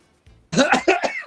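Two or three quick, harsh coughs in a short burst, close and loud, following a faint throat sound.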